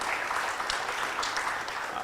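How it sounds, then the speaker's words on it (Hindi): Audience applause at an inaugural session, dense, steady clapping from many hands filling the hall at even loudness. "तो एक IDFC में जो रचना जी हैं, उनके लिए जोर से एक ताली बजा सकते हैं।"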